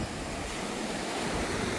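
Waves breaking on a tropical seashore, a loud, continuous rushing surf mixed with gusty wind noise on the microphone, with no voices.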